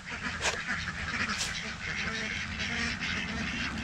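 Several farm ducks quacking and honking nearby as they eat feed pellets in a noisy outdoor setting, with scattered calls over a rough background and some faint talk.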